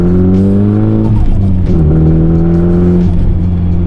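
Nissan Pulsar GTiR engine revving hard on a dyno, steady loud roar with shifting pitch and a few sharp exhaust pops, close and alone.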